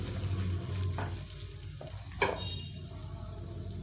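Egg and carrot batter frying in a pan over low-to-medium heat, a close steady sizzle with a few soft knocks and scrapes from the utensil.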